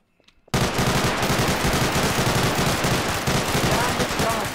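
A gun fires in the video game Garry's Mod: a sudden, loud, continuous burst of rapid automatic shots that hammers on steadily after a quiet start.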